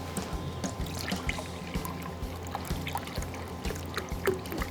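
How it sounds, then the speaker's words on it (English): Turkey broth being poured for a simple turkey injection, with a steady trickling, splashing liquid stream running throughout at close range and no talking. "Pour in about 1 cup."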